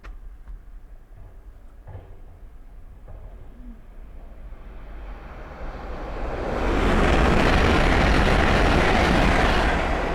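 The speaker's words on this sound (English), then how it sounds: "the next train to pass by is a Hull Train 800 from Harrogate to London King's Cross" A Hull Trains class 800 on the Harrogate to London King's Cross service approaches from far off and passes close by at speed, building from a faint rumble to a loud, sustained roar.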